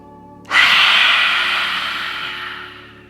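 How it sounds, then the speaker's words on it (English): A single long, throaty roaring exhale from a person during yoga breathing for neck and face tension release, breathy and forceful at first, then slowly fading over about three seconds, close and alone. "make a kind of throaty roar with your breath"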